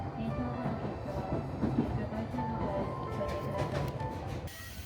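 A train rumbles steadily past nearby in Matsuyama, Japan, a continuous low roar with faint rhythmic clatter from the wheels.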